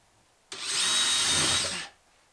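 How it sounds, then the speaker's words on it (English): A power drill drilling holes in pine wood whirs for about a second and a half, starting abruptly and spinning down, close and fairly loud with no talk. "I'm going to use that same drill bit that centers everything."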